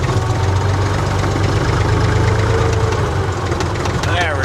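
A Jaguar XJ6 engine running steadily at a raised idle in a workshop after a snowfall, with a loud, constant low rumble throughout and a brief higher whine near the end.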